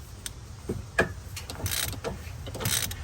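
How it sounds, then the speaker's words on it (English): Ratchet turning an 11mm deep well socket while removing the steering box on a 1999–2004 Ford F-150/F-250 truck; a few quick clicking bursts sound close up over low workshop noise. "we're going to take an 11mm deep well socket"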